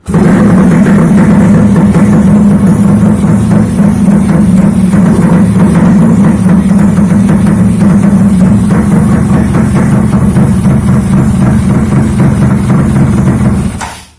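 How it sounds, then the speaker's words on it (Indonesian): A motorcycle engine that was hard to start when cold fires up in neutral and settles into a loud, steady, close idle that runs throughout before cutting off at the end. "ini ternyata motor langsung nyala"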